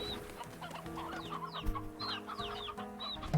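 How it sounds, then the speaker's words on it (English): Chickens in the game Slime Rancher cluck and chatter repeatedly in short bursts, a busy coop of hens and roosters heard alone at a fairly quiet level. "You got a lot of roosters in here."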